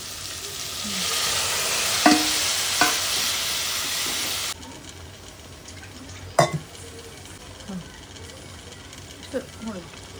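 Chicken pieces fry in hot oil with a strong, hissing sizzle that settles into softer crackling, punctuated by a few sharp clicks and taps of a utensil.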